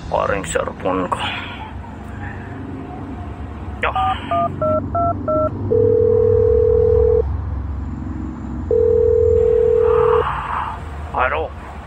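Cellphone keypad dialing tones beep in a quick series of short pairs, then two long steady tones sound, over background noise and brief voices from an action drama scene.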